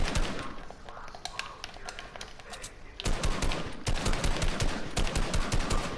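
Dense rapid gunfire in Fortnite, loud close bursts of shots rattling almost continuously, with a brief lull before another heavy volley.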